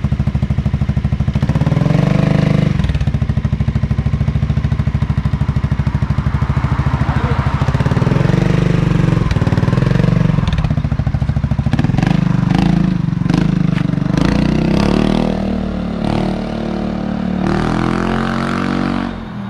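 A Honda Forza 350 scooter fitted with a DIY straight-pipe exhaust, catalytic converter removed and only a tip silencer installed, revs repeatedly with a loud, raspy engine note that rises and falls throughout, close up.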